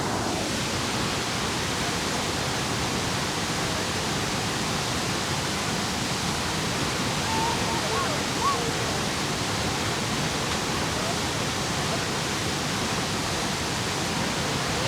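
Iguazu Falls thunders as a constant, dense roar of plunging river water, loud and unbroken throughout with no voices rising above it.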